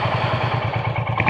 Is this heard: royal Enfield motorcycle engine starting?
yes